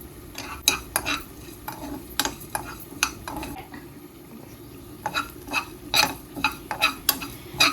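Fennel seeds and curry leaves fry in a pan for a chicken curry while a utensil stirs, sharp scraping clicks repeating irregularly over a low background sizzle, close and fairly loud.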